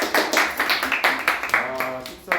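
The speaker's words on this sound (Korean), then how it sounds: "자, 박수!" A classroom of students clapping at the end of a lesson, a brief burst of quick, fairly close hand claps lasting a couple of seconds, with a voice briefly heard near the end.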